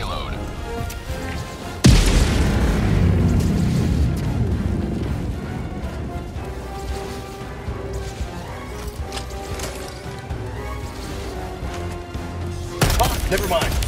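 Non-lethal artillery payload shells from a Helldivers 2 battle striking in a sudden heavy crash, followed by rumbling, scattered booms and mechanical clatter, with a second loud impact near the end and voices talking throughout.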